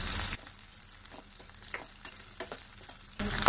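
Round red chillies and green chillies fry in hot oil for tamarind rice, a steady close sizzle and crackle that swells and settles with some stirring, with no voices over it.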